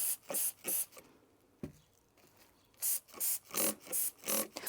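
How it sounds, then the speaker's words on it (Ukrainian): Quick hissing spritzes of water from a spray bottle while making a stand for marshmallow flowers: two pumps, a pause with a small click, then five rapid bursts in a row, close and crisp. "тепер пшикаю водою"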